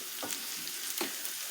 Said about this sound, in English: So I'm just frying some shallot,